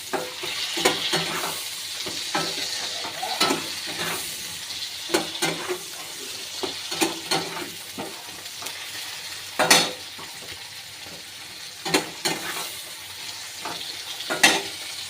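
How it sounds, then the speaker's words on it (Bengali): Tomato and green chili sautéing in a pan, with a steady low sizzle under repeated stirring scrapes and clinks of a utensil against the pan, close and fairly quiet. "এবার আমি টমেটোটা দিয়ে দেবো, টমেটো আর কাঁচা লঙ্কা। একটু ভালো করে কষে নেব।"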